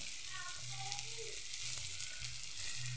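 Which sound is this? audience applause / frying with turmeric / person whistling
frying with turmeric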